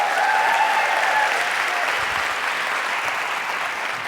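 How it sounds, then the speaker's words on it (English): Steady, dense applause from a conference audience at a talk on human communication, loud and sustained for the whole stretch with no talking over it. "And so big round of applause for Tim."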